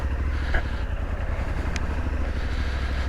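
A Suzuki V-Strom 800DE motorcycle engine idles steadily with a low, throbbing rumble, close by and continuous, with no talking.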